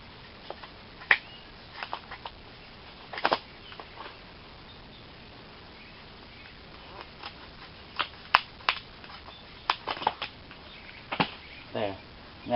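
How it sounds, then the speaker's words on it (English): Hand snips cut through the back of a duct-taped plastic container, a series of sharp, close snipping clicks at an uneven rhythm, with quiet pauses between cuts. "I'm going to take these other snips and cut the back side of it."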